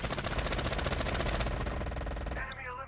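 Rapid automatic gunfire in Call of Duty Mobile from a machine gun, a dense stream of loud, closely spaced shots for about a second and a half, then trailing fire and fading echoes.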